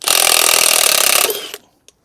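Impact wrench hammering on a strut spring on a 2025 Ford Explorer ST during an H&R spring install, giving a loud, continuous rattling buzz for about a second and a half before cutting off abruptly.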